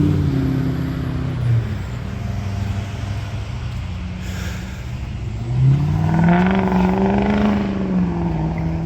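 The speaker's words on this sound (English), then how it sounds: "People with noisy cars up here." A loud car engine revs and roars past nearby on a road in Wilderness State Park, rising in pitch as it accelerates, over steady outdoor road noise.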